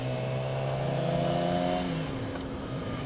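A 2012 Yamaha R6 sport bike with stock exhaust revs nearby, its engine note rising and then falling back, alone without talk.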